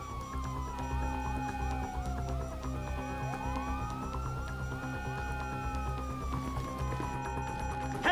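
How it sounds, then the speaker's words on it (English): Police siren wailing in long, continuous rising and falling sweeps at moderate distance over a steady low rumble of traffic and hum, with no talking. "Hear that? Sirens! Fuck the cops!"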